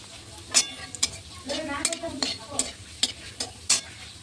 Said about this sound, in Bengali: চলো তেলটা গরম হয়েছে, দিয়ে দেবো শুকনো লঙ্কা আর তেজপাতা,